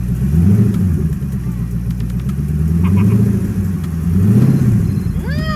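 An SRT8 Chrysler 300 engine revs up and falls back in three rising-and-falling swells, loud and close, with brief talk over the top.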